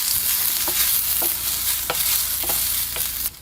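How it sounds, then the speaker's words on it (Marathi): Onion, garlic and ginger fry loudly in a pan over a wood-fired stove while being stirred. A dense, close sizzle is broken by periodic scraping strokes and drops off abruptly near the end. "कांदा लसूण आलं वगैरे आहे ना पूर्ण असं आपल्याला परतून घ्यायचं"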